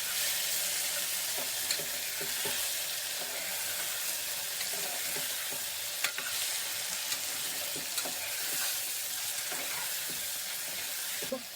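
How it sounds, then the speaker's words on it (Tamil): Tomatoes sizzle and fry steadily in a pan for mutton lung gravy, with a dense, even hiss and occasional scraping clicks of stirring, close and continuous with no talk. "தக்காளி நல்லா கிளறி விட்டு நல்லா வதக்கணும்."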